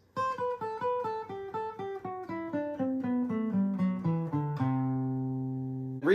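A guitar plays a descending scale run of steady, evenly spaced plucked notes stepping downward, ending on a sustained ringing low chord, clear and alone.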